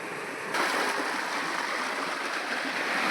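Water pours steadily down a drain channel along a path, a continuous close rushing and splashing that starts abruptly and then holds at an even level.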